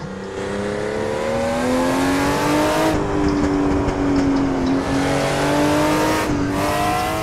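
Race car engine in the Assetto Corsa driving game revs loudly and steadily, pitch climbing and dropping through gear changes with brief lifts near three and six seconds, no voices over it.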